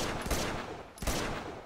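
Rapid gunfire in the Uncharted: Among Thieves video game, aimed at a thrown propane bottle, comes in two loud close bursts about a second apart with no talk over it.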